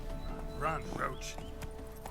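Hoofbeats of the horse Roach galloping in The Witcher 3, a steady clip-clop running through the whole stretch with a brief whinny midway, heard under someone talking.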